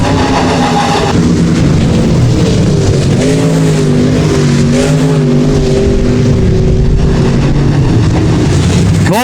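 Race cars roar through a heat race at Rapid Speedway, a loud, continuous engine drone with rising and falling pitch as the pack passes close by.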